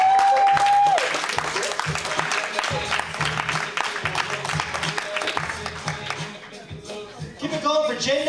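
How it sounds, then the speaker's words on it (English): A comedy club audience applauds as a comedian is brought to the stage. Lively clapping runs under music with a thumping beat, and talk and a whistle-like tone come through near the end. "put your hands together for my very good friend"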